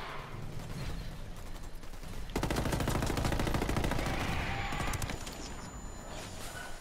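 Gunfire in the Ghost Recon Wildlands video game, a rapid automatic burst of shots that erupts after a couple of seconds of low ambient rumble and keeps going steadily, fairly quiet in the mix.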